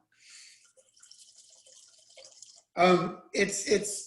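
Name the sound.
red wine being poured into a glass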